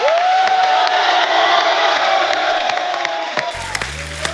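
Studio audience of a Kapil Sharma comedy talk show cheering, whooping and applauding loudly and continuously for a celebrity couple arriving, a dense crowd roar that cuts off abruptly near the end.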